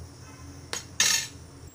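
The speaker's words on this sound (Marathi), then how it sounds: "मी आता गॅस काढत आहे आणि कोथिंबीर अशी घालत आहे आणि असं ढवळून घेत आहे" A spoon stirs buttermilk kadhi in a pot after coriander goes in, making two short metallic clinks and scrapes against the pot over a quiet background.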